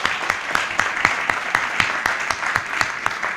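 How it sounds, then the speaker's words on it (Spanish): Audience applause at a history book presentation and discussion, a continuous spell of fairly loud clapping with sharp individual claps standing out at a steady, lively pace. "¿Ya aplauden la supervivencia?"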